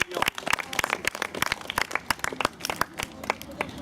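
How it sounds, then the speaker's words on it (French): Scattered clapping from a small crowd applauds a club volunteer at a taekwondo event, with sharp, uneven claps filling the space throughout. "on peut applaudir bénévole"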